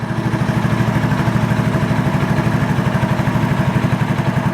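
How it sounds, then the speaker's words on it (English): Honda TRX 125 ATV engine idling steadily with a fast, even low putter, close and moderately loud, running throughout with no talk. "It's probably got the wrong size pilot jet in there, but it is running, idling."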